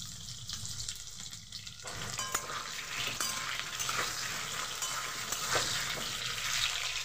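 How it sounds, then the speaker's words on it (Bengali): Salted potatoes, pre-boiled for a mutton curry, frying in hot oil with a continuous close crackling sizzle that swells after the first two seconds, punctuated by light stirring, no talking. "আলুটাকে ভালোভাবে ভেজে নেব।"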